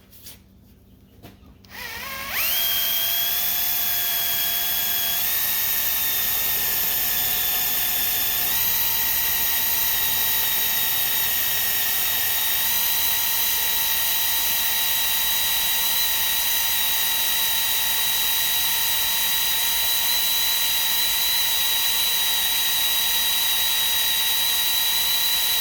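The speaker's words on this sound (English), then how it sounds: "And I just drill the hole. Hopefully the drill bit's sharp." A power drill bores a hole for a welding skid, starting with a brief rattle and then holding a loud, steady high whine that shifts pitch slightly, running without pause for over twenty seconds.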